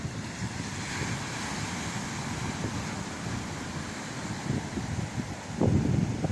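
Wind and surf on a North Norfolk beach, a steady broadband roar of breaking waves with buffeting gusts across the microphone that swell louder near the end, no voices.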